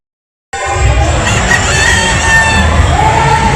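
A rooster crows loudly at a game fowl expo, set against a steady crowd murmur and other birds calling in a busy hall.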